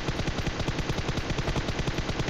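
Sustained rapid automatic gunfire in PUBG Mobile, loud and close, a dense unbroken burst of shots with no talking.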